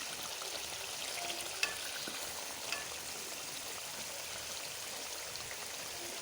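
Fish sizzling and frying in butter in a pan, a steady close crackling hiss throughout with a couple of small sharp pops.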